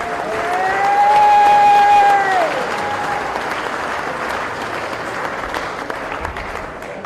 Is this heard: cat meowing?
no